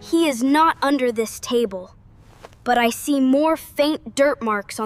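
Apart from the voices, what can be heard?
No distinct noise like a dog, phone or traffic.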